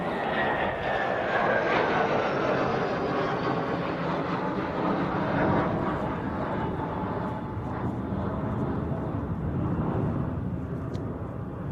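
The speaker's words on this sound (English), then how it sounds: "Danish F-16s now in the overhead, one of them the Dannebrog Special Scheme." Danish F-16 fighter jets fly overhead at an air show, one wearing a Dannebrog special paint scheme, producing a sustained roaring engine rush that is strongest early and slowly fades, with no voices.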